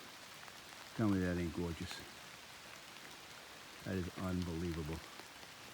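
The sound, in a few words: rain falling in a mountain valley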